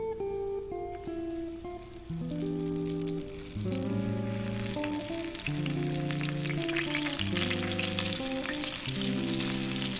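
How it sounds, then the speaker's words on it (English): Breaded yellow perch frying in hot oil, a steady crackling sizzle heard under music. "Let's go ahead and get the rest of this yellow perch, bread it up, and in that oil."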